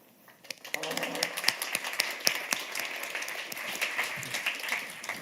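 Conference audience at the Frontline Forum claps steadily, a dense patter of many hands building quickly and holding for several seconds with no speech.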